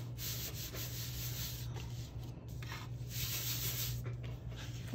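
Paper being folded and rubbed by hand while crafting a paper butterfly, a quiet, close, continuous dry scraping and rustling with soft swells of rubbing and no talking.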